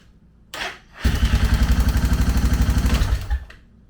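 A Suzuki DR650 single-cylinder motorcycle engine, freshly rebuilt, catches after a brief crank, then chugs steadily in a loud, close, even idle rhythm for about two seconds before cutting out abruptly.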